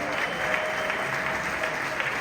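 An audience at a political caucus meeting claps steadily in a continuous, fairly even round of applause at moderate distance, with faint voices mixed in.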